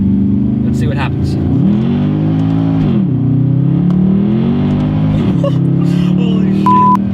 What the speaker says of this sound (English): It is just wheel spin for days.